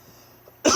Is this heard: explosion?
no